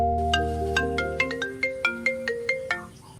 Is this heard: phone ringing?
yes